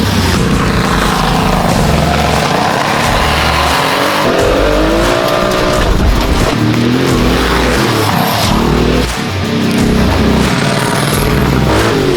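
A Porsche 959 Paris Dakar rally car is driven on snow, its engine roaring loudly and continuously up close, rising and falling with throttle changes, with tyres scrabbling and skidding over the surface.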